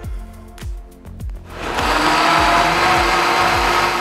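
A kitchen blender starts in short pulses, then runs steadily and loudly as it purées lime juice and fresh basil for a soup, with no talking.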